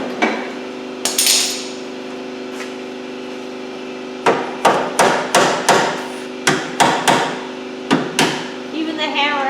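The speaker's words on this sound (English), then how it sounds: "Give me my red hammer, the plastic one." Sharp knocking strikes of a plastic hammer on a Honda Civic's car body, a few early, then a rapid series of about a dozen evenly spaced blows, close and loud.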